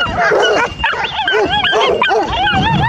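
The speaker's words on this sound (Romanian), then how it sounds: "Asta e un câine." A Romanian shepherd dog barks and yips repeatedly in quick, excited bursts close by at a sheepfold, with whimpering pitches between barks.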